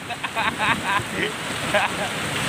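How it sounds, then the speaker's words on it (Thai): Steady heavy rain and gusting wind make a broad, constant roar close to the microphone, and someone talks over it. "วันนี้ฝนตกแรงมากครับ"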